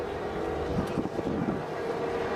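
The Avro Vulcan XH558 delta bomber rumbles and roars steadily, a continuous dense roar from its four Rolls-Royce Bristol Olympus 202 turbojets at an air display, with no voices.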